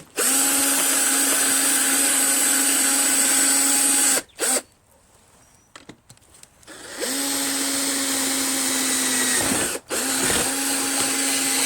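A power drill whines steadily at high speed drilling into metal, cuts out briefly to near silence, then runs again with a short stutter near the end.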